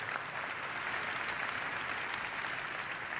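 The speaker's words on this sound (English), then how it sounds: "And that deserves an applause." Audience applause at an award ceremony honoring Asia Almashreqi with the Nansen Award: a steady, dense wash of many hands clapping at an even level for about three seconds, with no voices over it.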